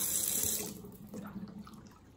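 Tap water runs into a sink as fresh basil leaves are rinsed clean, a steady splashing stream that fades after about half a second, leaving quieter trickling.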